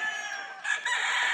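A yellow-legged bulik rooster crows, a single bright, fairly close call that swells partway through and holds strong to the end, with no one talking over it.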